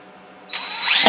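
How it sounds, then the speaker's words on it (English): A power drill bores a quarter-inch pilot hole through the wall of a sandblast cabinet, spinning up from quiet into a short, close, rising whir that grows louder toward the end. "So I'm drilling a quarter inch pilot hole"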